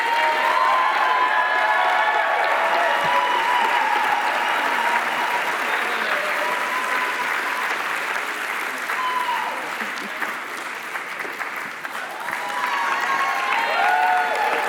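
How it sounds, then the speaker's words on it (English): Sustained audience applause with some cheering at a 2019 Madison area music awards show for student musicians, loud and continuous clapping with a few voices mixed in. "One more round of applause for our talented and hardworking student musicians"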